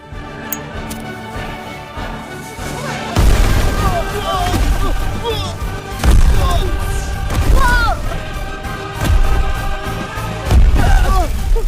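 Firecrackers go off in a Hindi-dubbed Peter Rabbit film scene as several deep booming bursts spaced a few seconds apart over busy music, with voices talking in between.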